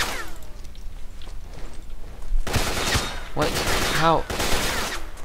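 Gunfire comes through a thick stone wall in S.T.A.L.K.E.R. Shadow of Chernobyl, with a bursty fusillade of shots in two dense volleys that land loud and close, while a startled voice briefly speaks before them.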